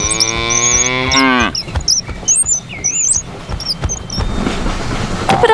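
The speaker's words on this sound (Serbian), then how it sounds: "Krava." A cow lets out one long, loud moo lasting over a second, followed by rustling and scattered squeaky chirps over a low background rumble.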